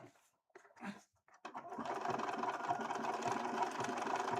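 A sewing machine stitches fabric for a Twilight Princess Link cosplay, starting after a few brief handling noises and then running steadily with a dense, even mechanical whir and close, rapid needle rhythm.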